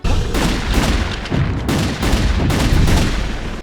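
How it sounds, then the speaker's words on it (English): A gun in Castlevania: Legacy of Darkness on the N64 fires several loud, punchy booming shots in quick succession, each with a short decay, close and dominant with no talk over it. "I love how this thing sounds. I know it's just a stock sound effect, but damn it, it's a good stock sound effect."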